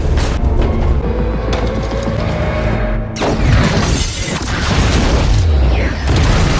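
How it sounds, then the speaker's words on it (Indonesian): A loud stun grenade blast with a shop exploding and shattering debris bursts out amid chaotic game-like noise, followed by crackling and further rumbling impacts. "melempar sebuah stun granat dan membuat toko itu meledak"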